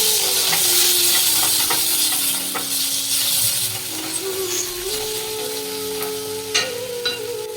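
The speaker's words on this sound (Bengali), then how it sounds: "এবার ভালো করে আমি মশলাটা ফ্রাই করে নিচ্ছি।" Spice masala for a Bengali katla fish curry fries and gets stirred in hot oil, a steady bright sizzle with spoon scrapes and clinks throughout, close and continuous with no talk.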